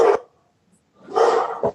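A dog barks in the background during a remote meeting: one sharp bark, a pause, then a longer bark followed by a short yip, fairly close and loud with no talk over it.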